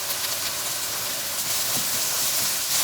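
Ginger garlic paste sizzling in a hot pan for an eggplant and potato curry, a loud, steady, close hiss of frying that holds without pause and with no talking.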